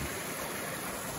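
A forest stream at the start of the Flat Laurel Creek Trail in Pisgah Forest, North Carolina, rushes steadily and close by, a constant even wash of flowing water.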